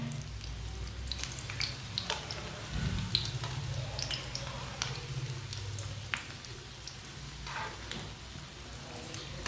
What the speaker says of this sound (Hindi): अब 1 मिनट तक ये वाली साइड से फ्राई होने देते हैं।